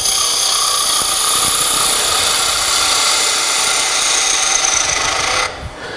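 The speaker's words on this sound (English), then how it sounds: "And then I'm rotating the gouge around, and I'm really doing sort of a peeling cut." A gouge making a peeling cut on a wooden toy top spinning on a lathe gives a continuous loud, hissing scrape that holds steady for about five seconds before cutting off abruptly.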